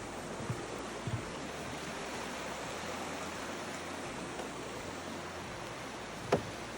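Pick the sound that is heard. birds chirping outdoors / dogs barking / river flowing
river flowing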